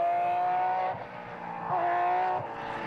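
A Porsche rally car drives a stage in the Belgian Rally Championship, its engine holding a steady, loud, high-revving drone with brief dips as it shifts, heard alone without talk.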